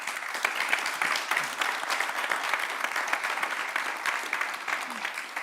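Audience applause for the panelists after a talk on decarbonizing buildings: steady, dense clapping from a room of people, moderately distant and even throughout, with no voices on top.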